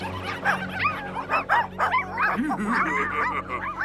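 Cartoon dogs, the Powerpuff Girls turned into dogs while fighting Mojo Jojo, let out a lively run of yips and bow-wow barks with whimpering tones, close and busy over a music bed.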